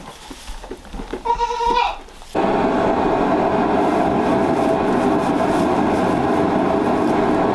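Goats bleat in a barn on a very cold day, a couple of harmonic calls close by in the first two seconds, then a steady loud roar from a propane heater takes over and runs to the end.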